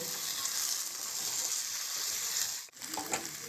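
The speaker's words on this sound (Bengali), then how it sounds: "এবার আমি এই ভেজে রাখা আলুগুলো দিয়ে দেব এবার মশলার সঙ্গে খুব ভালোভাবে" Fried potatoes being stirred into spiced oil in a pan for potato curry, a continuous bright sizzle with a brief scrape and dip near the end.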